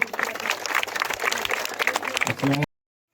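Crowd applause at a hall inauguration ceremony honouring a member of parliament, dense clapping with some voices mixed in, fairly loud, cutting off abruptly near the end.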